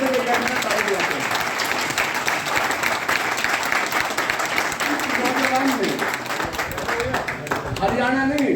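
An audience at a public speech claps steadily in a sustained round of applause, while a voice continues speaking over the clapping.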